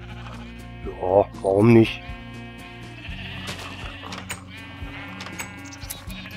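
Two short, loud sheep bleats in Minecraft, one right after the other, over quiet background music, followed by someone speaking.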